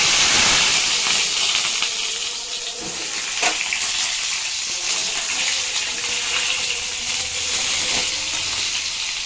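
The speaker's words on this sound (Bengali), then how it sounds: "ফোড়ন আমার হয়ে গেছে, এবার আমি পটলগুলো ছেড়ে দেবো।" Pointed gourd pieces hiss and sizzle steadily in hot oil tempered with black cumin, a continuous close frying crackle with a few small clinks and pops and no talking.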